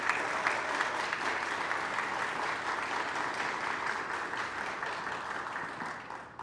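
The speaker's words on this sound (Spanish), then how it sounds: "le damos la bienvenida con un fuerte aplauso a nuestro hermano Versosa" Steady applause from an audience welcoming a speaker at a lecture on the Laudato Si encyclical, dense and sustained throughout, tapering slightly near the end, with no talk over it.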